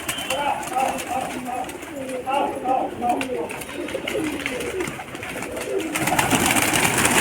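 Pigeons cooing softly at a loft, repeated low burbling calls close by, with people talking in the background and a rise of rustling and movement near the end.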